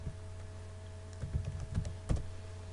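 Computer keyboard typing the TABLE command in AutoCAD, a short burst of a few close, soft key clicks over a quiet hum, with no voice.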